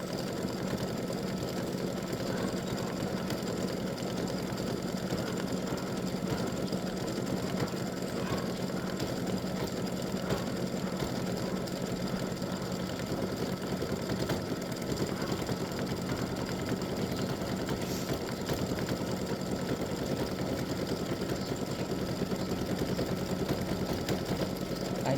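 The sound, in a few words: embroidery machine stitching Halloween witch design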